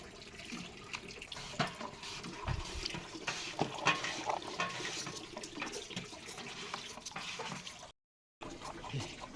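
Soft splashing and sloshing of water as potatoes are rinsed by hand, with small knocks, fairly quiet, stopping briefly near the end.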